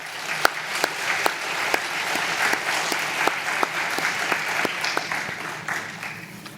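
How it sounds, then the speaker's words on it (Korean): Church congregation applauding at a Korean church service, steady dense clapping from many people filling the room and tapering slightly toward the end. "교회 오셔서 귀한 선교 보고와 간증을 해주신 우리 IT의 김월림 선교사님에게 큰 박수 보내주시기 바랍니다."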